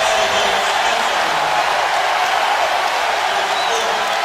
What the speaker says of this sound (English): Listen to the crowd here at Ole Miss.